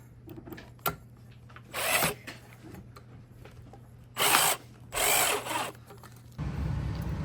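A power drill driving a screw into a ceiling fan mounting bracket during a bedroom install, several short whirring bursts with pauses between them, close and fairly loud.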